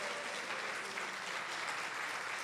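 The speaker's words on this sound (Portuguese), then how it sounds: "Vamos aplaudir ao Senhor" A church congregation applauding during worship, a continuous, even wash of many hands clapping with no pauses.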